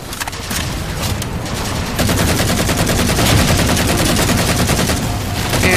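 Rapid automatic gunfire from the Halo 4 video game, loud and continuous, with dense overlapping bursts and shots running through the whole stretch without a break.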